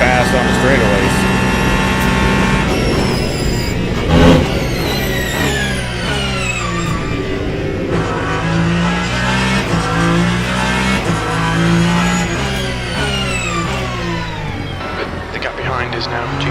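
A Cadillac prototype race car in the Le Mans Ultimate racing game, its engine note rising and shifting through gears over a long continuous run, other cars blending in, with someone talking over it.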